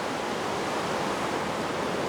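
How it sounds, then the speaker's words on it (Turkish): Rain in the Minecraft video game, a steady dense hiss of falling water, even and unbroken, with no voices or other sounds over it. "Yağmurun sesi çok geliyor."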